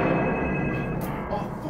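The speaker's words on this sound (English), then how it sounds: "I didn't even know there was a freaking phone there in the first place." A telephone rings inside a haunted mansion, a bright repeating ring heard over a constant low rumble of background noise, cut short after under two seconds.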